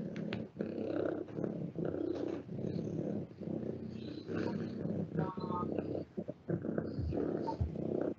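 A cat purrs in a low, rumbling rhythm, close and steady with brief pauses between breaths.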